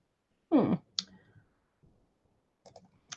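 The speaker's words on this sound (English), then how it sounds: "Hope my clacking isn't too loud" A few sparse, light keyboard clacks come close and alone in a quiet room, following a short breathy exhale.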